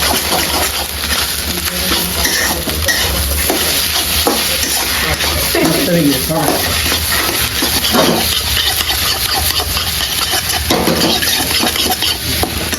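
Cumin seeds are stirred and fried in a pan in a home kitchen. A continuous sizzle carries on under a steady background hum, with scattered scraping and clinking from utensils and no talking.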